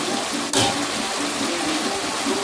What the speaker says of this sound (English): next I'm going to add some vinegar, some organic apple cider vinegar